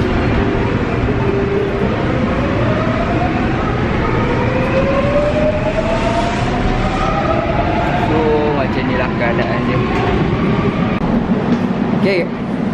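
A Seoul subway train runs with a loud, steady rumble and rising and falling whine of motors, with faint rail rattles throughout and no clear talk.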